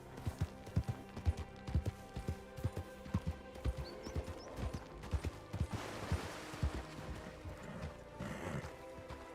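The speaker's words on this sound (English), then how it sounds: "Horse." A video game horse's hooves clip-clop in a steady, repeated rhythm, with a creaking, mechanical bed underneath and a brief whinny, moderately near, with no one talking.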